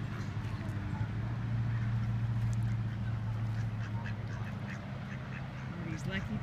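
Ducks quack in short bursts against outdoor background noise, scattered and moderately close, with a low hum underneath.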